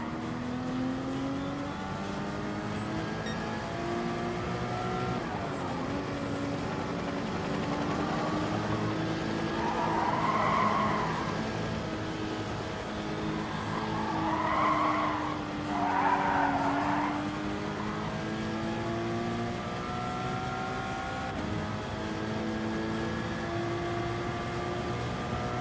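A race car in the Gran Turismo game on PS4 holds a continuous engine drone while accelerating, with rising and falling revs and bursts of tire squeal and skidding partway through, loud and steady throughout.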